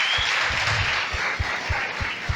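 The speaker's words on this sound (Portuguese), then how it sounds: "Vamos aplaudir os homens, irmãos." Church congregation applauding together, a dense steady wash of clapping with rhythmic low thumps beneath, loud and continuous throughout.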